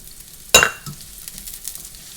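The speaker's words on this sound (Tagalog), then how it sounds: "Kailangan lang natin siyang ipa-brown ng konti. Ang ating garlic." Garlic goes into a hot frying pan for spicy pork binagoongan with a sudden sharp sizzle burst that quickly settles into a faint, crackling simmer, close with no talking.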